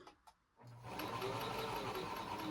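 A Domestic model 1505 sewing machine starts up after a couple of faint clicks and then runs smoothly and steadily at a loud, even hum, close to the microphone, with no talking.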